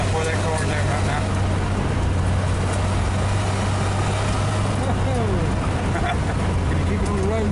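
A 1961 Dodge Lancer, back on the road for its first drive in 30 years, rolls along with a steady close engine drone and low hum throughout, with road noise and occasional faint voices.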